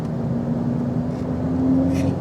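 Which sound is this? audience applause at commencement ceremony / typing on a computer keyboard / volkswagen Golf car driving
volkswagen Golf car driving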